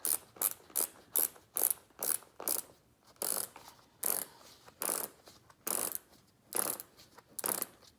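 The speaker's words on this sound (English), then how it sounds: "Grab your strap, tighten it nicely. Then have your normal buckles or ratchets if you must." A snowboard binding strap is cranked tight on a Burton Step On setup, giving close, crisp ratchet clicks in about a dozen quick bursts with short pauses between. No voices are heard.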